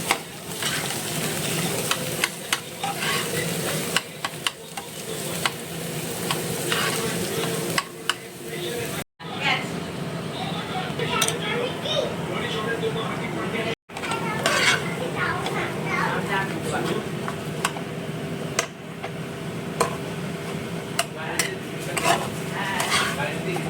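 A spoon stirs mashed potato with spices in a pan on the stove for aloo paratha filling, with continuous sizzling, repeated scraping and clinks of utensil against metal, close and busy, with a couple of brief breaks.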